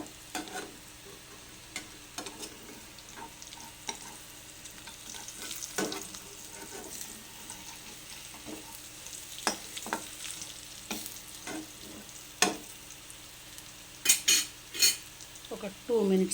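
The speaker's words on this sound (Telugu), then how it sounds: "అన్ని కాయల్లో ఇలా స్టఫ్ చేసుకున్న తర్వాత కొంచెం మంచిగా వేగాలన్నమాట" Stuffed bitter gourds frying in a pan, a low crackling sizzle under intermittent spatula scrapes and metallic clinks against the pan, louder knocks near the end, nearby and without talk.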